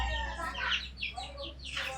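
Soft, repeated clucking of a chicken over a low rumbling background, with faint scratchy noise throughout.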